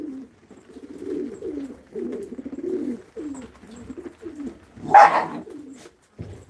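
Pigeons coo in a garden, soft, repeated throaty rolling calls in a steady, close series, with a brief louder squawk or flutter partway through.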